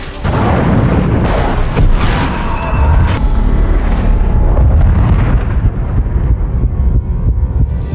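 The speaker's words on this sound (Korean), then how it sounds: "시원하게 쏘고 터트리는 총격 및 폭발씬" Action-film gunfire and explosions: a loud, dense blast opens the scene and keeps rumbling, with sharp bangs cutting through around the first few seconds before a continuous heavy roar carries on to the end.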